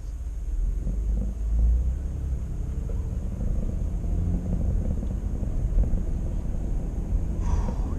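A 2005 Toyota Highlander on the move, heard from inside the cabin as a steady low engine and road rumble with a smooth, even drone throughout and no talking.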